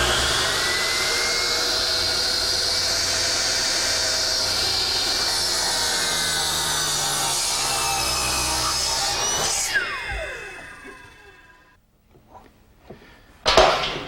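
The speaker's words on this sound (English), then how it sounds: "To make the cuts, I've set my power miter box to a 40-degree angle" A power miter saw set to a 40-degree angle slices through wood for a trestle table, a loud sustained whining cut for about ten seconds before spinning down, then a brief clatter near the end.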